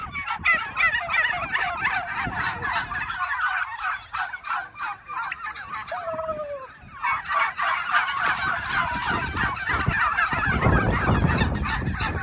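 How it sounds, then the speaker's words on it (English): A flock of turkeys in a farm field gobbles continuously, with many overlapping rattling calls close by and a constant chorus that dips briefly midway before surging again. "We've found ourselves a field of turkeys."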